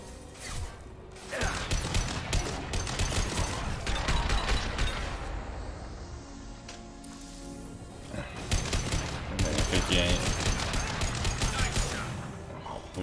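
Bursts of rapid gunfire crackle in loud volleys in the video game Mass Effect 2 Legendary Edition, pausing briefly in the middle before another heavy barrage, with mechanical clanks between.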